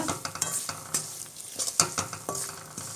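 A spoon stirs lemon juice into rice in a pan, with repeated scraping strokes and faint sizzling close by.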